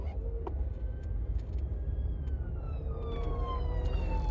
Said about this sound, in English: ambulance trying to get through.